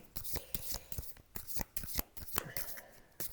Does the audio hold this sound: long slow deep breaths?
no